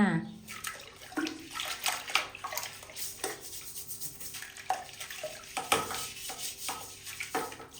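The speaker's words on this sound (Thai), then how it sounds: "ครบ 5 นาทีแล้วก็ทำความสะอาดขัดล้างให้ทั่วเลย" A bathroom being scrubbed and rinsed with a homemade cleaning solution: running water splashes and brush scrubbing in a steady, busy wash throughout, close and fairly loud, with a voice talking over it.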